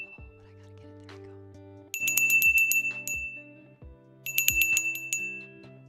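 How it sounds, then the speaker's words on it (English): A grandmother's Nana bell rings in two bright bursts of rapid chiming strikes, each flurry ringing out clearly over soft low tones, with quieter handling and thuds between them. "These are my Nana bells."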